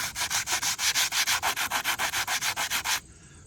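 Fast rhythmic back-and-forth scratching of a Diablo hand sanding tool over wood, about six strokes per second for three seconds, close and loud, then it stops.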